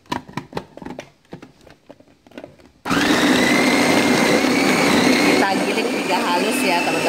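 A blender grinds a steamed shiitake mushroom mixture, starting with a loud continuous whir that stays steady to the end. Scattered handling clicks and knocks come before it.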